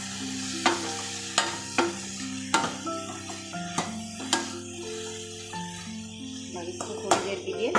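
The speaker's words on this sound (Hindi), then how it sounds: "डाल देती हूँ पालक। मसाले मैंने इसमें डाल दिया है, नमक और वो धनिया, हल्दी, मिर्च मिक्स करके" Spinach with salt, coriander, turmeric and chilli being stirred and fried in a pan, with repeated sharp scrapes and clanks of the spatula over a steady sizzle, close and fairly loud, while music plays underneath.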